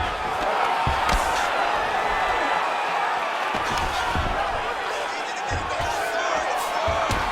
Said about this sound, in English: the crowd loves the stand-up fight